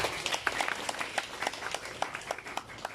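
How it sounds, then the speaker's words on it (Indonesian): Scattered hand claps from a small crowd at a temple ceremony in Bali, uneven and moderately loud, with a faint murmur of voices underneath. "Tepuk tangan buat panitia."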